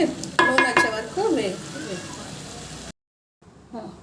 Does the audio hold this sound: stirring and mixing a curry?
yes